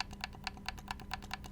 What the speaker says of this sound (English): the buttons are a lot nicer to press in. They sound like a mouse click.